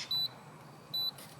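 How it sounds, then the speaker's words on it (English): Two short, high electronic beeps about a second apart from a Segway Ninebot GoKart in reverse, clear over faint background noise, like a vehicle's reversing warning. "it's beeping up like you're a big car going backwards"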